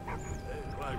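A dog in the Valiant Hearts war video game gives a short yelping bark, close and brief, with a faint high tone behind it.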